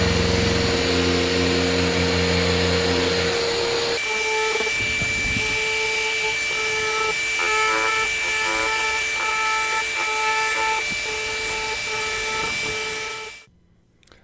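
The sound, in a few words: Delta 6-inch sander sanding a wooden door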